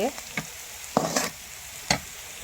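Bitter gourd and potato frying in a pan, a steady soft sizzle broken by a few sharp scrapes and taps of a stirring spoon, close up with no talking.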